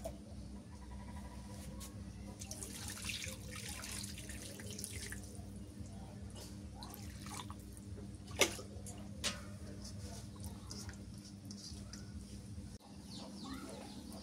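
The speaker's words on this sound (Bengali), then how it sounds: "ডিমওয়ালা মাছটার মধ্যে এবার পানি দিয়ে দিই।" Water runs from a tap or is poured into a pot of roe-filled hilsa fish, a soft continuous trickle heard faintly with a low hum, a few clicks and a rooster or birds in the background.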